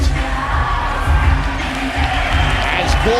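Packed, sold-out crowd at a kickboxing event for Nathan Corbett versus Tony Angelov, a loud sustained roar of cheering and shouting with whoops rising over it.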